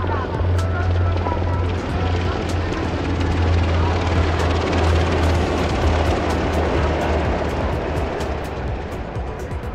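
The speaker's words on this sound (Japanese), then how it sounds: "続いては SH-60K 哨戒ヘリコプターです。" An SH-60K patrol helicopter passes overhead during a naval fleet review, its steady low rotor thrum and engine drone continuous and fairly loud throughout, with faint crowd or commentary sounds underneath.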